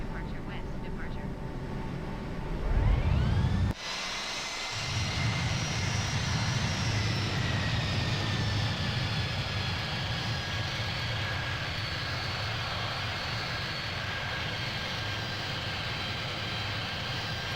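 Airliner engines spooling up for takeoff in Microsoft Flight Simulator, a steady loud roar with rising whine tones after a brief burst, holding broadband and constant through the clip with no talk.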